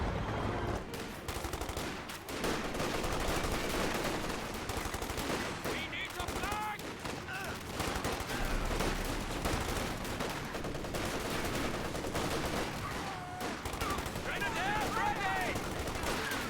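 Rattling bursts of rifle and machine-gun fire from squads trading shots in Company of Heroes 2, dense and continuous over a busy battlefield mix, with a voice talking in the background.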